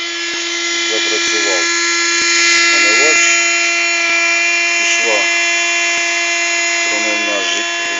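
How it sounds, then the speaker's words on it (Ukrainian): A small electric car windshield washer pump motor, wired to a battery, whirs steadily with a high buzzing tone throughout, while a person speaks intermittently over it. "Підключаємо двигун омивача до акумулятора."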